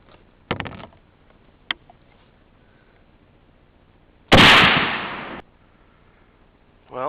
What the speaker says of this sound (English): So I'm going to fire a couple shots and see where they're landing.